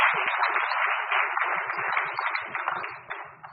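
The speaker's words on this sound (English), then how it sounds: "let's take a moment to give a round of applause to our nuevos Ladineros" An audience applauds for a group of Ladino-language performers at a Sephardic heritage event, with dense, steady clapping held at an even level for several seconds and trailing off at the end.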